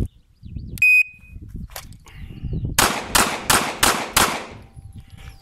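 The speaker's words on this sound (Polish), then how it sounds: "wyjmij broń z kabury, oddaj 5 strzałów" Five sharp shots from an HS SF19 pistol fire in quick succession during a timed drill, loud and close, preceded by a brief electronic beep and some shuffling.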